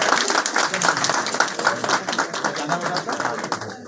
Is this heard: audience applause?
yes